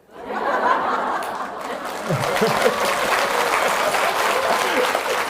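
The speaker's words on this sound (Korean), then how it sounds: "그게 박수 칠 일이야?" A large audience at an all-night Buddhist dharma talk breaks into sustained applause, dense steady clapping mixed with some laughter and crowd murmur that keeps going throughout.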